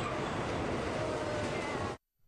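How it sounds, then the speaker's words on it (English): Amtrak's California Zephyr, pulled by a locomotive, rolls into Sacramento Station as a dense, steady rumble and roar of train noise that cuts off abruptly after about two seconds. "a locomotive pulls Amtrak's California Zephyr into Sacramento Station"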